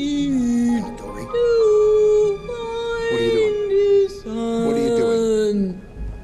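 A voice imitates a whale call with long, drawn-out, wailing moans. Two loud sustained stretches are broken by a short gap, performed in the World of Color show at Disney California Adventure.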